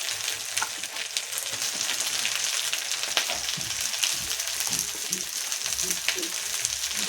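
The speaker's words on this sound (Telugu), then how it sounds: "కొంచెం ఫ్రై చేసుకుందాం." Mixed vegetables for a curry, capsicum among them, fry in oil in a pan with a steady, dense sizzle that runs the whole time, with faint stirring scrapes and no talk.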